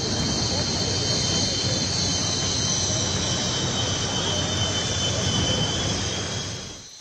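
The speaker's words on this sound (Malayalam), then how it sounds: "അവസാനമായി MiG-21 വിമാനങ്ങൾ ആകാശത്തെ പ്രകടനം കാഴ്ചവെച്ചു." MiG-21 fighter jets fly over an air base during a retirement ceremony dress rehearsal, producing a loud, steady jet roar that fills the whole stretch and fades slightly at the end.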